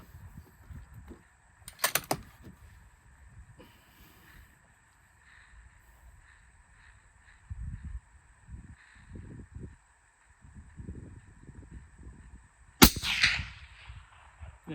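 Two sharp, sudden rifle shots during scope zeroing, fired several seconds apart outdoors with wind, with a few quiet knocks and shuffling sounds in between.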